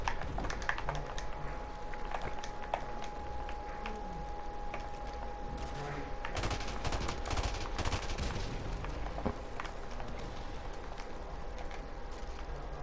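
Gunfire in Call of Duty crackles in short bursts and scattered single shots over a steady background hum, moderately loud, with no talk.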